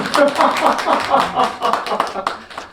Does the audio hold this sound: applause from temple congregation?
yes